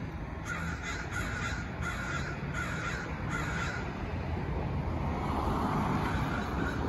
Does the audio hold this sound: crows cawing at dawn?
yes